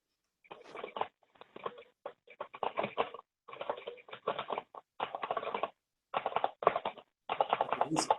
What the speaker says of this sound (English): Whose keyboard are we listening to?